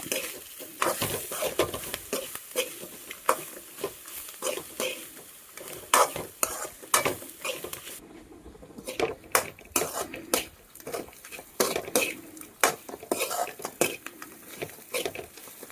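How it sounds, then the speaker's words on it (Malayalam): Small tamarind pieces fry in a pan with other chutney ingredients, a soft sizzle beneath frequent sharp scrapes and clinks of a spoon stirring against the metal pan, in irregular bursts. "ഇത് ഇതിൻ്റെ കൂടെ നന്നായിട്ടൊന്ന് ഫ്രൈ ചെയ്തെടുക്കാം"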